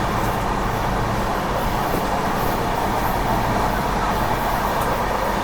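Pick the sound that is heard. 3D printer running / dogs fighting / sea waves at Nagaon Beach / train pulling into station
train pulling into station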